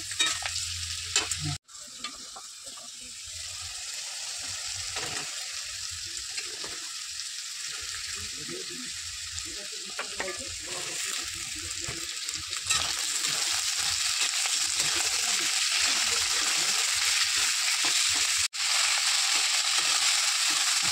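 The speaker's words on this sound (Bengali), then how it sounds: "এখানে গাজরগুলোকে লাল লাল করে ভেজে দেবো, তারপরে বিনস দিয়ে দেবো।" Carrots fry in a pan while being stirred: a continuous close sizzle with repeated scraping and clattering of the utensil, growing slightly louder toward the end, with no talking.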